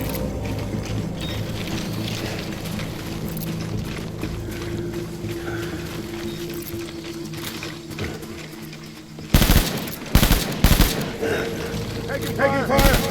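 Gunfire in the Death Stranding video game: a steady mechanical drone with game voices, then loud sharp bursts of rapid shots near the end, several clustered cracks standing out above the background.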